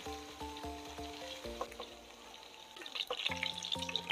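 Paneer cubes frying in a pan over a low gas flame: a soft, crackling sizzle that rises toward the end, mixed with steady tonal background music.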